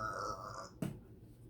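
A single short, low burp is sound-effected in a children's read-aloud story, breaking in abruptly after a held tone and fading quickly to quiet.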